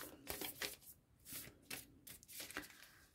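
Tarot cards are shuffled by hand, with quick repeated riffling and slapping bursts in an uneven rhythm, close and fairly quiet.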